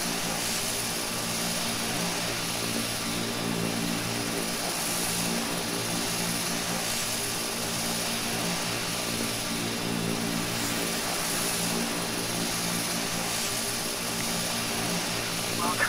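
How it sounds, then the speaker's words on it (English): Twin turboprop engines of an Embraer EMB-120 in a freeware flight simulator, a steady, loud propeller drone with layered tonal hum holding unchanged throughout, with no voices. "It just sounds like a Beechcraft."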